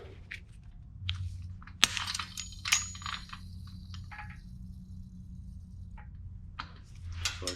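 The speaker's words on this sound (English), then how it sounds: "I'm going to go ahead and cut this tie wire." Tie wire on a Jeep Wrangler TJ front lift install being cut, a few sharp metallic clicks and snips against quiet workshop background.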